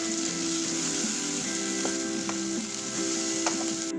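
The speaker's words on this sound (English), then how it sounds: "I'm then going to stir the tomato puree well with the onions." Tomato puree from two tomatoes fries with onions in a pan for an Indian-style mushroom masala, making a steady close sizzle with occasional soft stirring taps over a faint background hum.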